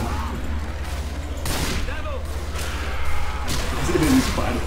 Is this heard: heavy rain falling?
no